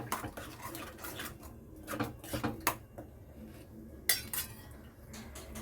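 Spoon scraping and clinking against a metal pan while stirring tomato puree into an egg curry, irregular close taps and scrapes with quiet pauses between.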